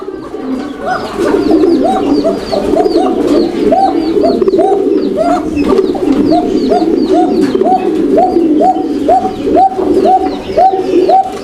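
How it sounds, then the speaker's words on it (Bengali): A male pigeon coos continuously in a loft of pigeons and chickens, its soft throaty rolling calls repeating in a steady rhythm up close, with occasional chirps from other birds and no talking. "পরে যেটা ডাকছে ওইটা হচ্ছে আপনার নরকবুতর"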